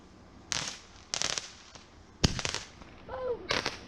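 Fireworks being set off outdoors, a series of sharp bangs and crackling bursts at moderate distance, with a faint whistling rise near the end.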